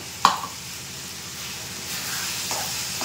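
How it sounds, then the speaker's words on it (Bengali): A cashew, melon seed and garam masala paste sizzles in a hot pan, opening with a sharp hit as it drops in, then a soft steady hiss with a faint scrape near the end. "যেখানে আমি পেস্ট করে রেখেছি কাজু, চারমগজ আর গরম মশলা, এই পেস্টটা এবার আমি এতে ঢেলে দেবো"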